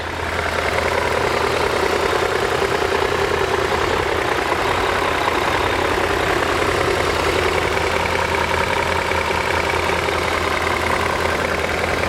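A 2000 BMW M5 engine idles with a Vanos fault, a steady, loud, close mechanical hum with faint rhythmic plunking ticks throughout and no talking.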